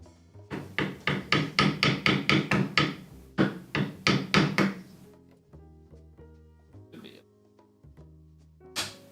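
Chisel struck with a mallet during hand woodworking, a fast run of sharp, evenly spaced knocks, then a short pause and a second burst of blows, followed by a few isolated taps.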